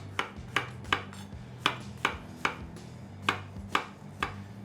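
A knife slicing mushrooms thinly on a cutting board, about a dozen crisp, evenly spaced chops close up, alone with no talk.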